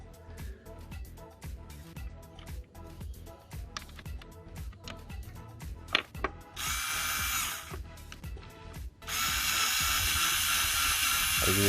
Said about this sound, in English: Your power tool.